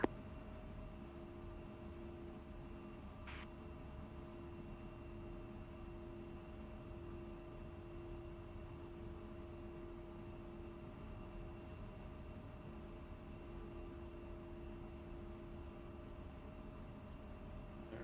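An A-10 attack jet taxiing along a taxiway in the DCS flight simulator, with a steady, even engine whine and a constant broadband rumble that holds the whole time, plus one brief click partway through.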